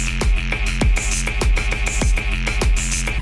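Electronic beat built in Bitwig Studio with randomized arpeggiated hi-hats, a looping bass and drums, loud and close, with punchy kicks and a steady repeating groove over bright ticking hats.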